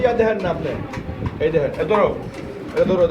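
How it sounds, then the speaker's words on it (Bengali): A pigeon at a market stall gives repeated soft, throaty coos close by, heard in short bursts while someone talks over them. "আমরা কবুতরটা এই যে ধরে দেখাবো"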